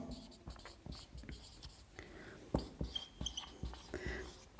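A pen scratches across paper while a maths problem is worked out, giving short irregular strokes and taps at close range with a faint voice murmuring underneath.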